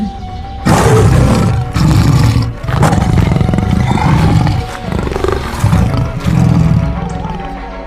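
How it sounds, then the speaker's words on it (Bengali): Two cartoon tigers swimming across a Sundarbans river give loud, close, rumbling roars. Several long bursts follow one another with only brief breaks. "দেখা যায় দুটি বাঘ নদী সাঁতরে দ্রুত মদনের নৌকার দিকে ধেয়ে আসছে"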